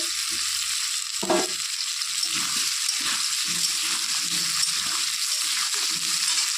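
Potatoes and onions fry in a hot pan with a steady, loud hiss and crackle that holds unbroken throughout, with a brief stir or scrape near the start.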